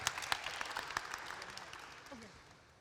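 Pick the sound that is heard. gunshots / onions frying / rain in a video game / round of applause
round of applause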